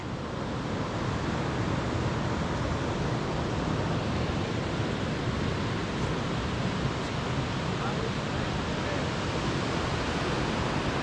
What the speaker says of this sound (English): it's mental the way the water's flowing over that